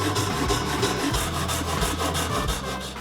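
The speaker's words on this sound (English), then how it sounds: "that same magnetic dovetail saw guide that I used to cut the tails gets flipped around so the angle is perfect for cutting the pins" Hand dovetail saw cuts pins along a scribed line in wood with a magnetic saw guide, giving steady, fairly quiet rasping strokes in an even back-and-forth rhythm, close up with no talk.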